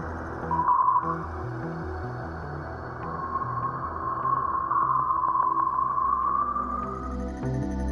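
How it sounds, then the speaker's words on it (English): Solar shock waves detected by Voyager 1 in interstellar space, sonified into a continuous eerie drone with low stepping tones and a rising, wavering whistle-like hum, steady and moderately loud throughout. "There, it still senses the shock waves emitted by the sun, which sound like this."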